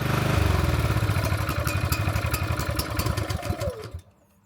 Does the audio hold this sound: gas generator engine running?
yes